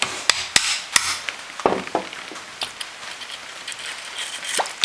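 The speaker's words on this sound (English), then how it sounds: "Just tap off the handle of the screwdriver." Sharp taps from a screwdriver handle striking corroded parts of a Comet pressure washer during a rebuild, several quick knocks clustered early then sparser, close and distinct.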